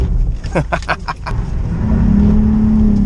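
A lowered Nissan 350Z street drifting, its engine revving in sharp bursts before settling into a loud sustained high-rpm drone, heard up close.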